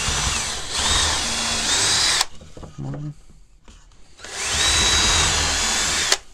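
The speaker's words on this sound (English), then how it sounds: "then just drill straight through" A power drill whines loudly for about two seconds drilling straight through wood, stops briefly while a voice speaks, then drills again at steady high pitch.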